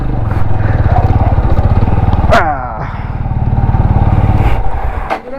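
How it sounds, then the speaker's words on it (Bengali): Motorcycle being parked on a misty hill road near Takdah, Darjeeling, its loud close engine throbbing steadily, easing down briefly, then revving again, with a sharp squeal-like sweep in the middle. "চলো বাইকটাকে পার্কিং করি"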